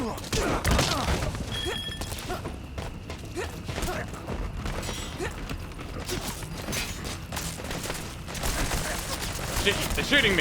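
Enemy gunfire crackles in Metal Gear Solid V: The Phantom Pain, with bursts of rapid shots and thuds layered over a busy mix of game sound effects and occasional voices.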